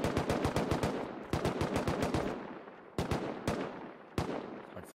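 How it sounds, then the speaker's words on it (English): Rapid automatic gunfire in the video game Rust as a player shoots scientists, sustained bursts of loud close shots broken by brief pauses, then a few isolated single shots near the end. "No, he's shooting scientists."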